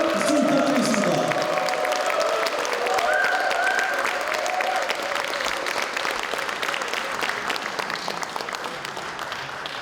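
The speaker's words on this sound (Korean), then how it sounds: "뜨거운 환영 박수 부탁드리겠습니다." Sustained, dense applause fills a hall as a party leader is welcomed onto the stage at a Seoul Democratic Party training event for metropolitan council members; the clapping stays loud and steady throughout, easing slightly toward the end.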